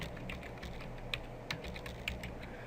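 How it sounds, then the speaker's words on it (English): Typing on a computer keyboard, a steady run of light close key clicks with a few sharper, louder taps standing out, alone with no talk. "Notice I'm typing"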